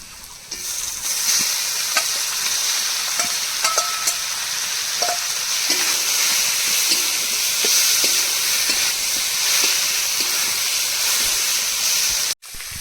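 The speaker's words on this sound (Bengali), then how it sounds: "ভেজে রাখা ইলিশ মাছের মাথাগুলো এবার এর মধ্যে দিয়ে দিলাম" Fried hilsa fish heads sizzle steadily in a pan with turmeric, a loud, continuous frying hiss overlaid with scattered clinks and scrapes of stirring, no voices.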